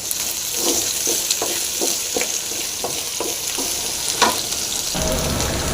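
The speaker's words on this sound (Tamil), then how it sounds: "வெங்காயம் வந்து நல்லா ஃப்ரை ஆகிருக்குங்க" Shallots fry steadily in a pan with salt for a spicy broad-bean curry, a continuous close sizzle broken by repeated scraping stir strokes, with no voices.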